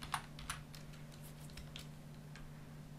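Computer keyboard typing while coding a JavaScript triangle drawing, with several crisp key clicks near the start, then sparser taps over a steady low electrical hum, quiet and close.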